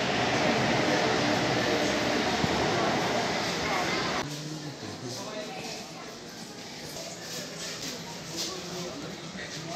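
A Kolkata metro train departs Howrah underground station with a loud, close rumble for about four seconds, then drops away abruptly to quieter station ambience.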